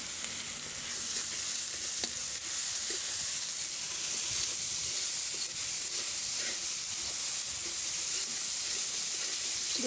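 Ginger garlic paste sizzling as it fries in a pan, a steady close hiss of frying that holds loud and continuous throughout.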